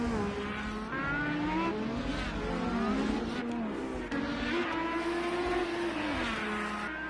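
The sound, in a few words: race car driving on a track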